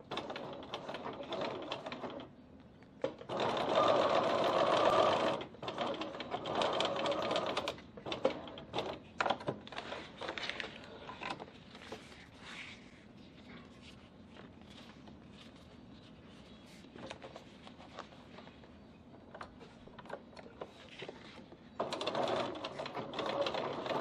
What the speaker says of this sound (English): then top stitch down either side of your seam using a longer stitch for top stitching